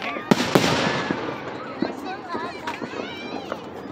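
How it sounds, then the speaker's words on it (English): Fourth of July fireworks booming outdoors, several sharp blasts early on and more scattered bursts later, each trailing off in a rolling echo over a steady background wash of crowd noise. "You hear the echo from the fireworks."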